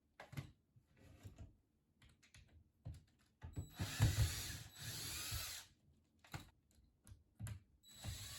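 A small screw is worked out of a wall where its anchor has broken loose, giving faint, close, irregular clicks and ratcheting taps with a brief grinding whir in the middle; quiet and without speech.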